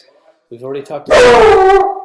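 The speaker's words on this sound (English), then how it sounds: "that was my dog, sorry" A dog barks and howls in one loud, drawn-out outburst just after a person's voice, close to the microphone and louder than the speech.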